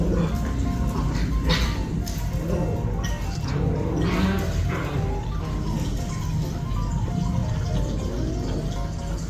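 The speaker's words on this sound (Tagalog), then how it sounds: "Yung mga aso po namin ay naglalaro." Dogs yip and bark playfully amid a busy, noisy background with running water, the barks coming in short bursts close by.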